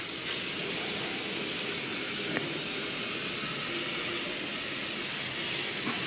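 A garden hose blasts water straight onto the metal-covered fins of an AC condenser, a steady, loud broadband hiss and rush that holds constant throughout without pause.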